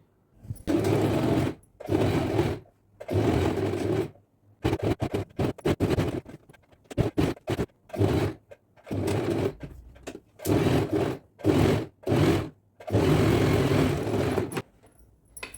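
A sewing machine stitches around folded kurti fabric in repeated bursts of steady whirring, some long and some short, separated by brief silent pauses.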